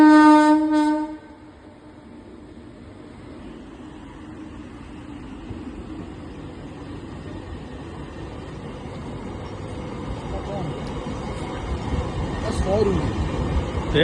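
A train horn blasts loudly for about a second, then a train rumbles past as a broad, steady roar that swells toward the end, with people talking over it.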